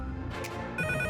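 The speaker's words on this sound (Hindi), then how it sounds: "शायद फोन बज रहा है।" A phone ringtone chimes briefly near the end, a short bright electronic tone following a moment of muffled sound.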